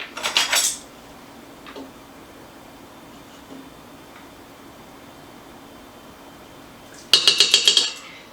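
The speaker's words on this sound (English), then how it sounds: "we're going to mix that until it's blended well" A utensil mixes powdered sugar, salt and vanilla in a bowl for icebox cookies, giving two short bursts of rapid metallic clinking at the start and end with near-silence between, and no talk.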